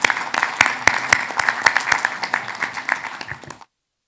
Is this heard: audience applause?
yes